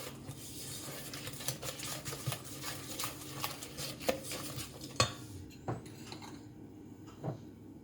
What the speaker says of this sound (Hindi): इसी तरह थोड़ा थोड़ा मैदा डालती जाऊंगी मैं और मिक्स करती जाऊंगी